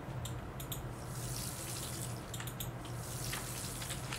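Water pours from a watering can onto crops in the farming video game Pumpkin Days, a steady splashing flow with a few brighter droplet bursts, heard alone at moderate level.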